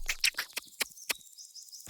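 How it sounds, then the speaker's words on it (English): A duck on a farm quacks in a quick series of short, raspy calls, four or five close together, then falls silent before one last quack. "Look, it's a duck."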